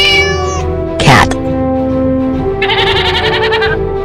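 A cartoon goat in a children's nursery-rhyme animal sequence lets out a loud, wavering, tremulous bleat over a steady musical backing, after a short sharp sound near the start.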